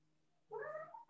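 A house cat lets out a single drawn-out meow nearby in a kitchen during cocktail preparation with a Thermomix, rising suddenly out of quiet room tone.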